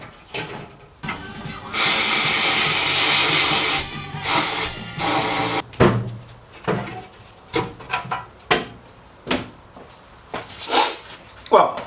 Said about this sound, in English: I've now got a shot blasting cabinet